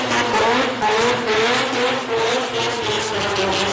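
Mazda FC RX7 race car, a built drift car, revving hard with tires squealing continuously, a loud close engine roar layered with screeching rubber throughout.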